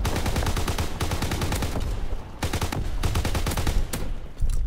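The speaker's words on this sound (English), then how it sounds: "Wow, shotgun is one shot." Rapid, loud bursts of gunfire in the World War II shooter Call of Duty WW2, close and dense with repeated shots in quick strings and short pauses, more like automatic fire than single shotgun blasts.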